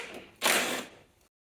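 A ratchet works loose 10mm bolts on the headlight assembly of a 2008-2020 Dodge Grand Caravan, giving one short close burst of mechanical clicking that tails off, with no talk.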